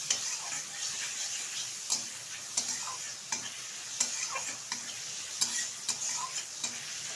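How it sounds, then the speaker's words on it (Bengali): Shrimp fry lightly in a pan with cumin and turmeric, a steady sizzle punctuated by regular clicks and taps of stirring, with no talk. "হালকা করে চিংড়ি মাছটা ভেজে নেব।"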